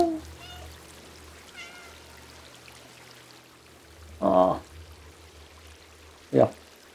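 Two short, bright cat meows from the video game Stray ring out a couple of seconds apart over a quiet hum, with faint soft tones earlier.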